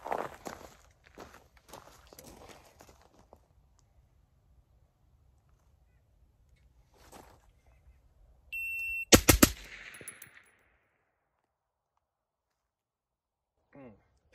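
Rifle shots during a shot timer test with a Geissele Super 42 H2 buffer, a tight cluster of sharp loud cracks with a short electronic timer beep just before, preceded by faint movement and followed by near silence.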